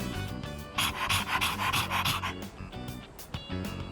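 Dog panting in Persona 3 Reload, fast rhythmic huffing breaths close up with a short snort, steady for a few seconds.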